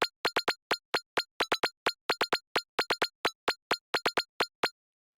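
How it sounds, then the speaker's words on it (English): A bright synth lead patch built in Serum fires short staccato stabs in a bouncy, uneven rhythmic pattern with silence between hits, played solo. "I have this lead, and it's made in Serum"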